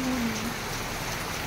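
Rain falls steadily in a rural provincial village, a close, even hiss heard for a brief moment with nobody speaking.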